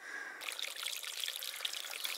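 Water trickles and splashes steadily in Wilson Canyon in Jackson Hole, a close, continuous babble of a small mountain stream that runs alone from start to finish.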